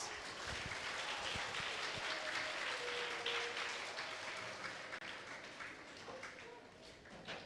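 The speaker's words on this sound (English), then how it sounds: "Let's give them a big round of applause." Sustained audience applause at a Teachers Day school event, a dense, steady wash of many hands clapping from a crowd throughout, with faint voices mixed in.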